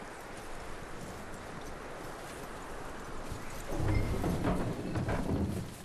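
Horse hooves clip-clop in Red Dead Redemption 2, a steady rhythmic patter that grows louder and denser over the second half over a constant ambient background.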